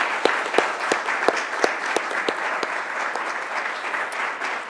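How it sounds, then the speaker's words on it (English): After a policy briefing panel on carbon dioxide removal, the audience applauds the panelists with lively, steady clapping and a few crisp, close claps ringing out above the crowd. "I think our panelists deserve a round of applause."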